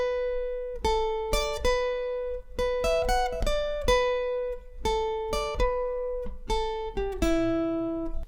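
Guitar picks out a song's riff, a short repeated figure of clear plucked single notes and double stops in bursts with small gaps, played close and alone with no voice.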